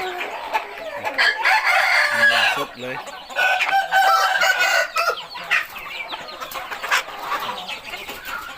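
Roosters crow loudly in repeated, drawn-out calls, with hens clucking nearby and someone speaking briefly.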